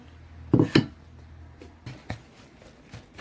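Chicken for lacha pakora is mixed with salt, black pepper, red chilli, cumin and garlic powder in a bowl, giving a few close, sharp clinks and knocks of a utensil against the dish with quiet pauses between.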